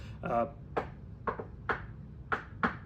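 A person knocks on a door to demonstrate a friendly knock: five or six crisp, evenly spaced raps, close and fairly loud, with a brief double tap near the start.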